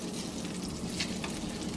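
Salmon fillets laid skin side down in a hot pan, searing with a continuous close, bright sizzle.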